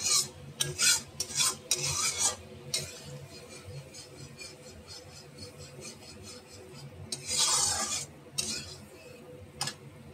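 A spatula scrapes and rubs in a pan of hilsa fish curry with mustard oil, salt and turmeric, in short rasping bursts that come and go, close and moderately loud, with no talk.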